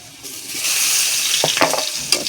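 Fried potatoes with salt, turmeric and green chilli sizzle steadily in a pan, with a few louder scraping knocks from stirring toward the end; no one speaks.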